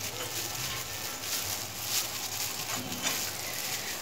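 Hot tempering with sesame seeds poured over cooked bathua greens gives a steady, moderately loud sizzle, a continuous hiss with light crackle throughout and no talking.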